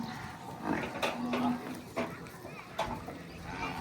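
Buffalo sounds at a busy livestock market in Dhule, with a few low animal calls and shuffling amid nearby chatter and crowd noise.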